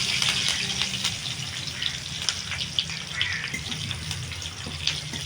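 Dried red chillies, curry leaves and black mustard seeds frying in hot oil, a bright continuous sizzle with scattered crackles and pops, close and steady, no one speaking.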